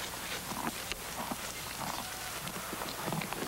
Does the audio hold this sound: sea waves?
no